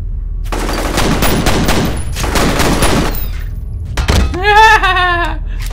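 Pistol gunfire in the video game F.E.A.R. comes as dense, rapid bursts of loud shots in several clusters, followed by a sharp impact and a metallic ringing clang.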